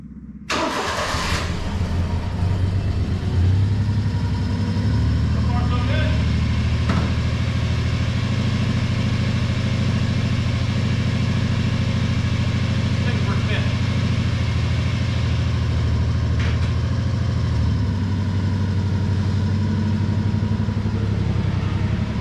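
A cold 1997 Honda Acty cranks briefly and catches, then settles into a steady, loud, high idle with a low mechanical drone that runs on unchanged, close to the microphone.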